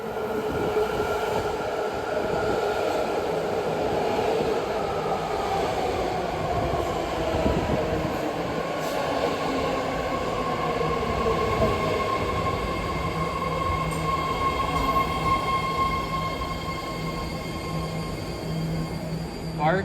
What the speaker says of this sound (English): Behind me, that is a typical BART train.